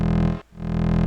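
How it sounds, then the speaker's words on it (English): Unprocessed acid wavetable bass from the Vital synth, a steady buzzy sustained tone with a rich harmonic stack, briefly cutting out for a moment mid-note before resuming. "Just the wavetable by itself sound like that."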